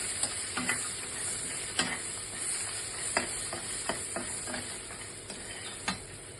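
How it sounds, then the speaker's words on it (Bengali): Large prawn legs frying lightly in oil for a Bengali chingri malai curry give a steady soft sizzle, broken by a handful of sharp spatula taps and clicks against the pan, close and unaccompanied by voices. "বড় বড় ছিল বলে তাই এগুলো আমি একটু ভেজে নেবো এর সঙ্গে তেলের মধ্যে একটু হালকা করে"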